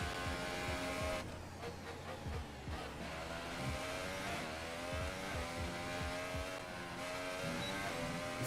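A Formula 1 race car in a video game revs hard and slides into a corner, its high-pitched engine whine rising and dropping through gear changes, loud and close with no talk.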